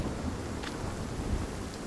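Steady rain falls in the Nightingale game world, a dense continuous wash of patter with low rumbling underneath, heard alone without talk.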